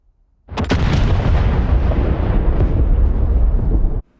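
Missile strikes land in a sudden loud blast followed by a sustained, heavy rumbling roar of about three and a half seconds that ends abruptly.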